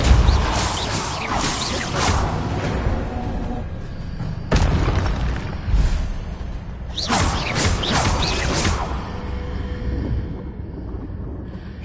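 Depulso spell blasts in the Hogwarts Legacy game, several booming whooshes in bursts about every two or three seconds, loud and close over a low rumbling background.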